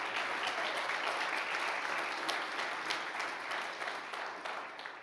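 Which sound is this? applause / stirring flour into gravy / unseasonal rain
applause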